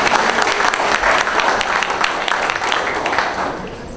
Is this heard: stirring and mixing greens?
no